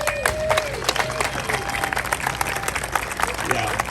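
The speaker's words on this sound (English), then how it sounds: "So I'd love to have a big applause for Winnie." A crowd applauds at a talk by the new owner of Meyers Manx, the steady clapping running throughout with a few whistles and voices mixed into the noise.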